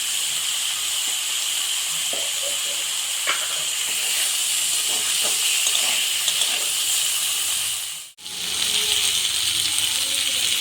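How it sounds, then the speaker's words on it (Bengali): Broccoli frying with a pinch of turmeric in a pan, a steady loud hiss of oil sizzling throughout, briefly cut off near the end before resuming. "ব্রোকলিটা ভাজা হয়ে গেল,"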